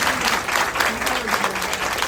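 Applause from an audience fills the space with dense, steady clapping that stays loud and continuous, with voices faintly mixed in beneath it.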